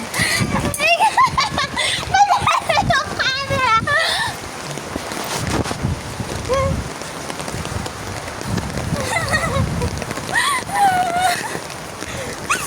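Steady rain patters and splashes all around while children and adults talk and call out over it.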